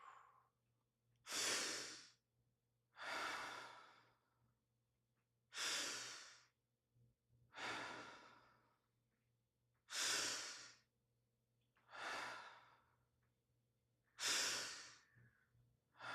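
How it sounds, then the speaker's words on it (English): A group takes charge breaths into the upper chest in a breathwork session: eight deep, even breaths in a slow, regular rhythm, each a soft airy rush over a low steady hum in a quiet room. "So 5 regular charge breaths into your upper chest."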